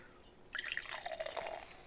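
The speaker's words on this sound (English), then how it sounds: "I should probably pour some of this out." A JuneShine drink is poured out in a short, steady splashing stream that starts abruptly and runs for about a second and a half, close by with no talk.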